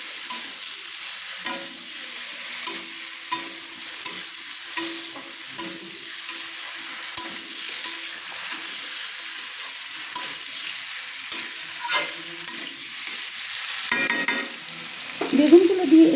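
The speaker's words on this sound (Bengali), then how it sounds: "বেগুনগুলো দিয়ে আমি একটু নেড়ে নিলাম, সুন্দর করে একটু নেড়ে নিলাম।" Washed brinjal pieces fry in an oiled pan for a Bengali pui chyachra, a soft continuous sizzle broken by regular scraping strokes of a stirring spoon, louder clattering near the end.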